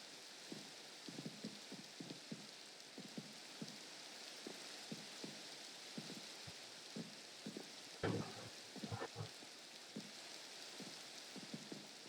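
Rain falls steadily in the Minecraft modpack Sky Factory 3, a constant soft hiss with scattered quiet drip-like taps and a brief louder burst partway through, heard on its own without voices.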